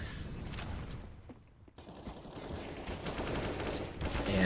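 Bursts of AK rifle fire in a competitive Counter-Strike match, rapid cracking shots filling most of the clip with a brief lull, layered over dense game ambience.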